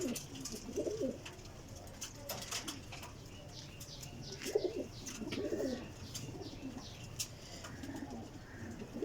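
Soft, repeated coos from several flying pigeons close by, with faint chirps and rustling in the background.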